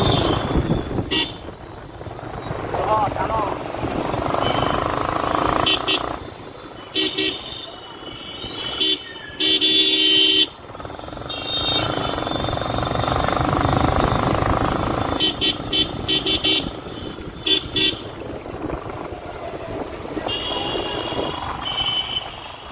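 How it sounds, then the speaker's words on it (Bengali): A motorcycle ridden through traffic in Raiganj at dawn, with engine and road noise throughout and repeated short horn toots from nearby vehicles, while a voice talks intermittently over it. "এখন আমার রাজা মামা বাইক চালাচ্ছে।"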